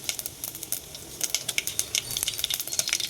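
Cumin, mustard seeds and dried red chillies crackle and spit in hot oil for besan kadi, close and busy, with rapid popping bursts that grow denser as the sizzle continues.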